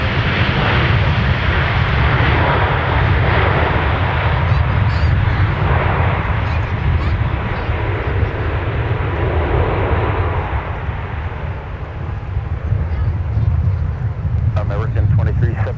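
An American Airlines Boeing 737-800 arriving from Dallas touches down on the south parallel runway at Minneapolis–St. Paul airport, giving a sustained loud, broad engine roar with heavy low rumble that swells and eases slightly, no voices.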